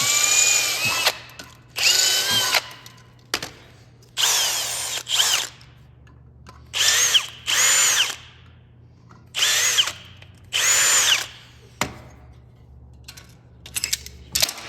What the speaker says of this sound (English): I'm gonna drill this and tap it.